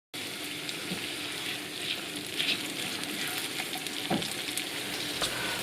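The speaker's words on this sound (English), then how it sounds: "add the bay leaf and the chopped onions and let those saute for 2 or 3 minutes." Bay leaf and chopped onions sautéing in oil over medium-low heat in a pan, giving a steady close sizzle and crackle with occasional stirring scrapes.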